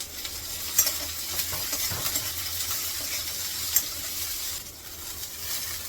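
Sesame seeds spluttering and popping in a hot pan over a low flame, a steady close crackle with a few sharper pops, no voices.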